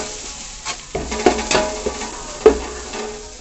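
Biryani masala sizzles in a pan for chicken biryani, and a spoon stirs it in short irregular strokes, knocking and scraping against the metal several times over a soft, steady frying hiss.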